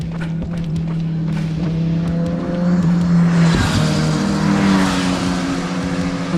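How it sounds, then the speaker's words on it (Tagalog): A group of Harley-Davidson motorcycles speed past on an uphill road, engines droning loud and close with a rising roar midway as they pass, while an outdoor wind-like hiss fills the background. "Ang bibilis ng kwan. Motorsiklo."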